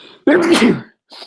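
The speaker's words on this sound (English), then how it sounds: "I'm going to sneeze" One loud, close human sneeze bursts out sharply and fades within half a second, followed by a brief mumbled word.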